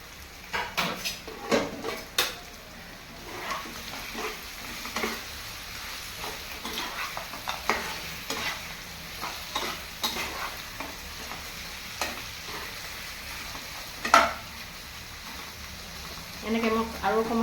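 Potatoes and ginger-garlic paste go into mutton frying in its own oil and get stirred, giving a close sizzle broken by repeated scrapes and clinks of a utensil against the pot.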